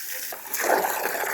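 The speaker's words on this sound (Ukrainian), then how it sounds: "Тут за хатою наберу також у відра, в бідони." Water splashing and gushing into buckets and milk cans outdoors behind a house, filled for watering a vegetable garden; a quieter trickle at first, then a steadier, louder pour that continues to the end.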